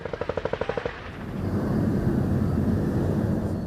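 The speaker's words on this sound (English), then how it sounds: "The bombardment of Gaza continues." Bombardment and gunfire in Gaza: a rapid burst of about ten sharp automatic gunshots, followed by a loud, sustained rumbling roar of heavy fire and distant blasts.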